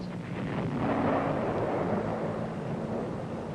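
Naval artillery shells passing overhead in combat, a continuous broad rumbling roar with a steady low drone, sustained and fairly loud with no clear separate impacts.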